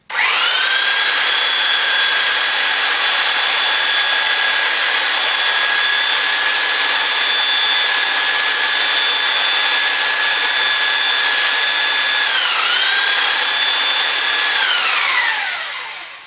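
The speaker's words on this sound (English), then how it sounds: "I'll just clean that up with the belt sander, only take a sec." A belt sander smooths the cut end of a plastic funnel with a loud, close, continuous high whine. The whine dips briefly near the end, then winds down as the motor stops.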